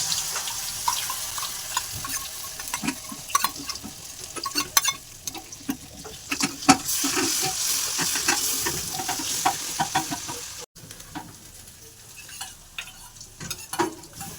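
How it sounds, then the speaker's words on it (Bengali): Ground spice paste of poppy seeds and cashews fries and is stirred in a pan over cumin, dried chilli and curry leaves, giving a steady close sizzle with scraping stirs and brief clinks, free of talk. "এবার মশলাটাকে আমি কষিয়ে নেব।"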